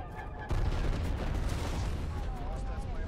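Napalm strike in the Black Ops Cold War multiplayer video game, a sudden loud burst at half a second that rolls into a sustained roaring rumble of explosions and fire, with a faint voice underneath.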